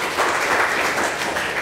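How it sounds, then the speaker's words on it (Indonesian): A church congregation claps and applauds, a dense, steady wash of hands heard close and fairly loud through the short moment. "kasih tepuk tangan yang meriah itu"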